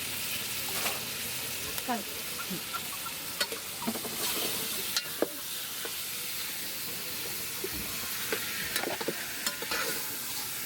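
Chicken curry being stirred into sizzling onions in a pan at a street food stall, a steady fry hiss with scattered clinks and scrapes of the spoon against the pan.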